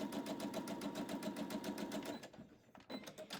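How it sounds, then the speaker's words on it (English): A sewing machine runs a straight quarter-inch seam through quilt patches with a rapid, even stitching rhythm that stops after about two seconds, followed by faint handling sounds. "Take that to your machine, 1/4 inch seam allowance, straight line down."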